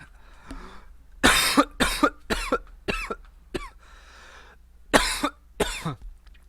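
A series of loud, harsh coughs close to the mic, several bursts in quick succession with short pauses between them.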